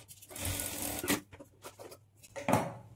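A sewing machine stitches blouse fabric in short runs, with a steady whirring burst, a pause, a quick second run and a sharp final burst, heard close and alone.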